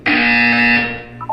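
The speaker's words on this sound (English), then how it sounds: "You will hear a buzzer." A single loud, sustained electronic buzzer tone sounds in the Portal 2 video game, holding steady for about a second before cutting off.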